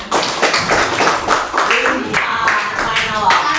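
Classroom clapping during a high school peer-teaching session, a short burst of hand claps mixed with students' voices talking over it, close and fairly loud.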